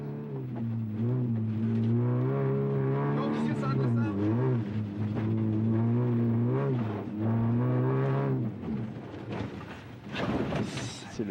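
An onboard rally car engine at the Rallye Falardeau 2006 snow rally in the Quebec Rally Championship drones loudly and steadily, its pitch rising and dipping through gear changes, with voices talking over it.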